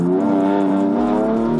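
A heavy car of nearly two tonnes drives laps on a tire test track on Bridgestone Potenza tires, its engine humming in a steady, even drone for a short stretch.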